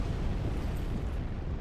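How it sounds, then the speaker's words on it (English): Fire bomb bursting in Dark Souls 3, a dense low rumbling roar of flame and blast that fills the short moment, fairly loud and even. "They have fire bombs?"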